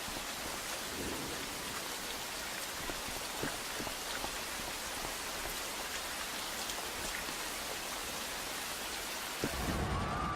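Rain falling in the video game Rain, a dense, even hiss of downpour with scattered droplet patter and a low rumbling undertone, steady throughout at moderate loudness with no speech.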